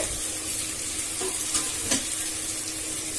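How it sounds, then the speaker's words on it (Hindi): Eggplant and potato fry with spices in a pan for a dhaba-style sabzi, giving a steady close sizzle with a couple of faint scrapes from stirring. "अब इसे मसालों के साथ हम थोड़ा भून लेंगे"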